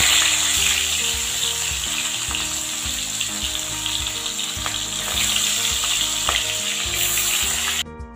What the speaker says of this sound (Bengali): এবার মাছগুলো দিয়ে ভেজে নেব।